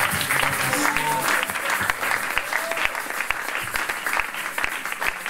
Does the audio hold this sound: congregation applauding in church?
yes